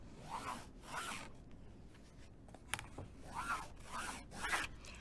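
A friction pen draws straight lines across quilting fabric in several separate slow strokes. Each one gives a soft, close rasp, with short pauses between them and no speech.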